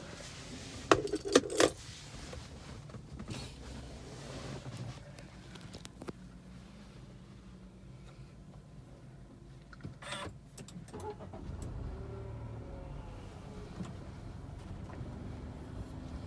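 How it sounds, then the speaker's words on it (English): A 2021 Nissan Almera 1.0 Turbo VLT is started from inside with the door closed: keys jingle, then a short cranking catch around ten seconds gives way to a low, quiet idle hum. "So now let's start the car with the door closed."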